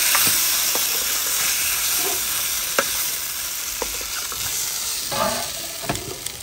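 Spices and fenugreek sizzle in hot oil for a tempering of a potato and fenugreek curry in a village kitchen, a loud, steady frying hiss broken by scattered crackles and pops, with no talking.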